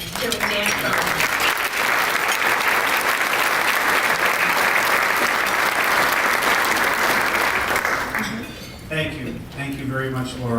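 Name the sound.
audience applauding as Chairman Dan Cronin is welcomed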